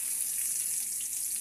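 Garlic frying in a pan, a steady close hiss of sizzling oil with no voices.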